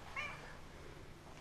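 A cat gives a single short, faint meow early on, set against a quiet room with low background hiss.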